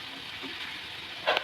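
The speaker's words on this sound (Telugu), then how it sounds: "మధ్య మధ్యలో కలుపుతూ ఉండాలి." Nethallu anchovy curry frying in a pan, a steady close sizzle with a brief stir or scrape near the end.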